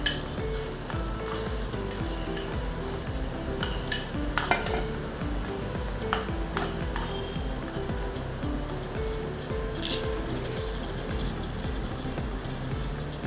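Tomatoes sautéing in a tiny miniature pan for chicken biryani, a steady close sizzle with soft stirring scrapes and occasional light clinks throughout, no voices.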